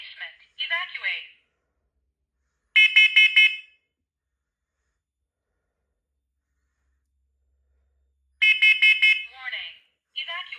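An alarm system under test lets out a loud electronic beeping burst, then a long silence and a second burst, each followed by a synthetic voice announcing a warning.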